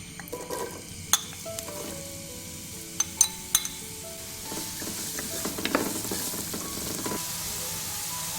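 Onions frying in six tablespoons of hot coconut oil in a pan, a steady sizzle under scattered sharp clinks and scrapes of stirring, growing busier and louder toward the end.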